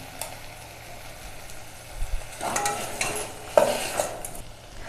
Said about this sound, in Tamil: இப்போ நல்லா வெங்காயம் தக்காளி வதங்கிடுச்சு.